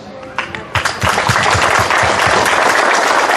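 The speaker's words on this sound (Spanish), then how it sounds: "quiero pedir un fuerte voto de aplauso para los abuelitos." A crowd at a municipal celebration of the national day of older adults breaks into loud applause for the grandparents, scattered claps at first swelling quickly into sustained, close, vigorous clapping.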